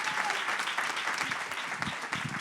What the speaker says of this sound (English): let's give these ladies a round of applause